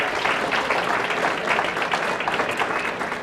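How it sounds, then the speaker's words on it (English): Crowd at a political campaign kickoff event claps in a brief, dense, steady round of applause, loud and close throughout. "Let's give them a round of applause."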